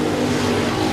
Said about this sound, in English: Your top 5 cars pulling away from the rest of the field.